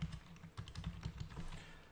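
Rapid, continuous typing on a computer keyboard, faint and steady, with many soft overlapping key clicks heard alone without talk.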